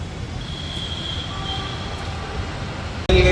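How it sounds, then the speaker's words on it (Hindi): A metro train rumbles steadily into a station, its rolling noise with faint wheel squeal holding for about three seconds before a sudden louder burst at the end; no talking. "अब हम दूसरे मेट्रो का वेट कर रहे हैं कि कब आएगी।"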